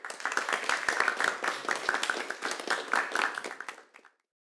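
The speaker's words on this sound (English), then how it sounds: "give them a round of applause" A React Native community meet-up audience in Kraków gives a round of applause, with dense, close clapping that swells and dips in waves before fading out near the end.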